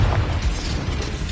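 Spell explosion from the Confringo fireball in Hogwarts Legacy, a dense, sustained blast with heavy low booms and crackling texture filling the whole short moment, loud and close with no talk.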